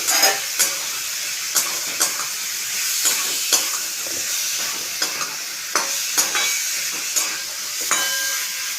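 Chicken pieces fry in a pan with a bright, constant sizzle, and a spoon scrapes and clinks at a steady rhythm about once a second, close and clear.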